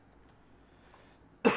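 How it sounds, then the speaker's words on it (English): A single short cough bursts out near the end after a long quiet stretch, loud and close to the microphone, during a beginner sewing session. "Get all those old cold coughs out of the way."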